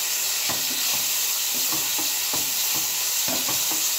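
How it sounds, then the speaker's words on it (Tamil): Onions frying with bay leaves in a pan for chicken gravy, giving a steady loud sizzle with a spoon stirring and scraping at a regular rhythm. "வெங்காயம் நல்லா ப்ரௌன் ஆகணும், அப்போ தான் கிரேவி நல்லாயிருக்கும்."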